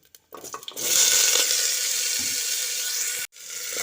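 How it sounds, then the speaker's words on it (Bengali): Potatoes fried in a pan with asafoetida and crushed green chilli give a loud, steady sizzle right after a brief clatter of them going in, holding broad and hissing for a few seconds before a short break and resuming. "আলুটা দিয়ে একটু ভেজে নিতে হবে"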